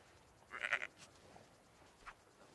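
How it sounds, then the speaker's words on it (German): A sheep in the Book of Travels video game gives a single short bleat, clear but fairly quiet, followed by a fainter sound, over a quiet background. "Das sind alles die Schafe."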